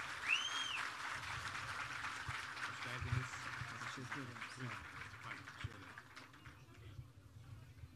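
A crowd at an outdoor wheat harvest event in Silivri applauds the arriving mayor, moderate clapping over a low hum and murmuring voices, fading gradually.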